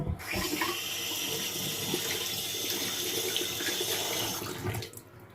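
A Foreo Luna 4 Plus facial cleansing device is rinsed under a steadily running tap, water splashing continuously and close up into a sink before the flow is shut off near the end.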